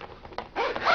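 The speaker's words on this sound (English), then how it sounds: "These are not your usual like low quality silvery zippers on a black thread." A zipper on an Elecom ZeroShock III padded laptop case is pulled in a short, close rasp that brightens and grows louder toward the end, with no talking.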